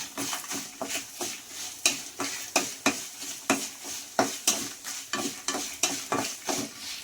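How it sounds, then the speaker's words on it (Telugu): Coriander and cumin seeds roast in a dry pan while a spoon stirs them in steady, rhythmic scrapes, each stroke bringing a soft rattle of seeds and a light sizzle, close and clear with no talking. "1 స్పూను ధనియాలు, 1 అర స్పూను జీలకర్ర వేసుకొని మాడకుండా దోరగా వేయించుకోండి"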